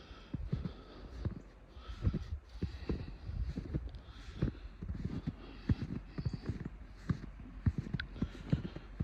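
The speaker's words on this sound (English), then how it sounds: "There's some of the horses back there for the livestock rescue." Horses at a livestock rescue move about nearby, hooves clopping irregularly on hard ground with occasional snorts, moderately quiet.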